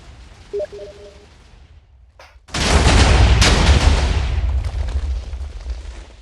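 A Minecraft TNT tunnel cannon firing, heard as a sudden loud explosive blast that swells into a long, roaring rumble, after a quiet stretch with a few faint tones.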